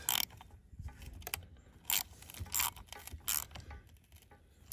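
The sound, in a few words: tightening chainsaw bar nut with a wrench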